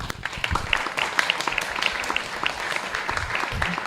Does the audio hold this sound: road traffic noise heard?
no